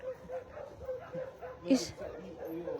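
Dogs bark and yip in the distance on a walk from Imerovigli to Fira, Santorini, faint repeated calls carrying over nearby voices talking.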